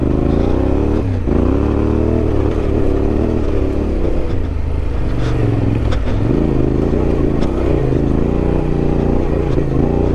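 A Yamaha Tenere 700 adventure motorcycle rides off-road on a dirt trail, its engine droning loud and close with rising and falling revs, while wind noise and occasional knocks from the rough ground mix in.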